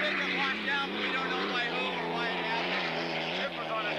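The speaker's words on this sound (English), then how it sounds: "The Budweiser, the engine still running" The Budweiser unlimited hydroplane racing boat idling with its engine still running at a 1987 Seattle race, a steady droning mechanical tone underneath a race commentator's voice.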